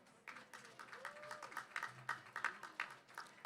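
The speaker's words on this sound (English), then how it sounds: "Give yourself a powerful round of applause." Faint, quiet applause from an audience at a national youth rally, a steady patter of many hands clapping with rhythmic swells, heard at a distance over soft background noise.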